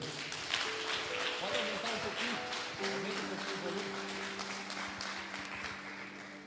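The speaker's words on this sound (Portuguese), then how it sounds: "Você pode aplaudir o Senhor?" A church congregation applauds in praise during a pastor's service, scattered clapping running under a sustained sung or organ-like tone, with voices faintly present.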